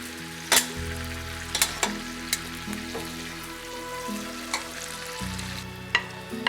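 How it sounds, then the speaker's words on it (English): Spaghetti and shrimp scampi with white wine sizzle and fry gently in a pan with the heat off, with scattered clinks and scrapes of tossing over a steady low sizzle. "And now we'll put the spaghetti back in."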